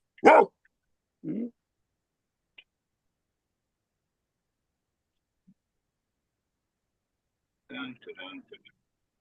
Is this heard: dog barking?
yes